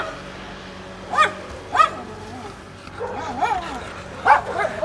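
Several dogs bark at unfamiliar dogs at a house, with a few sharp separate barks early on and then a denser run of barking and yips, fairly close against a low background hum.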